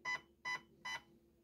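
A Gate Aster airsoft trigger unit gives three short, evenly spaced electronic buzzer beeps, close and clear against a quiet background.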